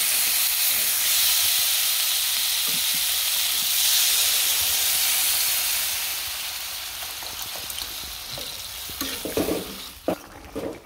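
Fish going into a sautéed curry in a home kitchen, a steady hiss and sizzle of frying that eases partway through, then breaks into irregular spattering pops and stirring clatter near the end.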